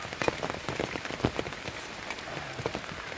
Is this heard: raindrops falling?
yes